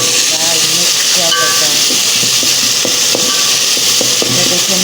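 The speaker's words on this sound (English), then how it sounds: "We'll add salt and we'll stir." A pot of lentil stew with tomatoes hisses steadily and loudly after salt goes in, while a spoon stirs it, adding faint scraping and soft knocks under the continuous sizzle.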